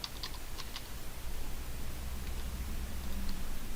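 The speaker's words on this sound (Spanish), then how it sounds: "Vamos a escribir una nueva contraseña" Keys clack on a computer keyboard while a new password is entered on a Windows Server 2012 machine: a quick cluster of light taps near the start, then a steady low hum with no further typing.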